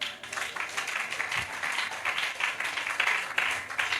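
A church congregation claps in sustained, dense applause, many hands together at an even loudness across the whole stretch with no voices standing out.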